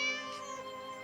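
A cat meows, a single drawn-out tonal call with steady harmonics lasting about a second, close and clear with no talk over it.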